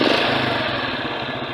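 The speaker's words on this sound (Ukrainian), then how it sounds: "Працює двигун із випередженням запалювання." An aging Delta moped engine, slightly warmed up, idles steadily with its ignition timing advanced, giving a loud, close, continuous buzzing drone with no talk over it.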